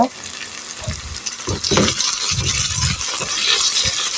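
Pumpkin pieces frying in a pan, a steady close sizzle and hiss with bursts of stirring and spatula scrapes, a voice talking faintly over it.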